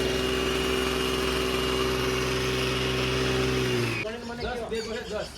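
A Honda Activa scooter engine running after a hard start, a steady close buzzing idle with a strong hum, then cutting out near the end and giving way to clattering handling noises.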